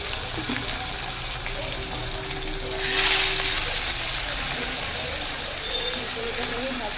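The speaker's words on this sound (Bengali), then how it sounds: "তেলটাও গরম হয়ে গেছে চলো মাছটা ছেড়ে দিই" Fish drops into hot oil, and a sudden loud hissing burst rises midway and then settles into a continuous sizzle over steady background noise.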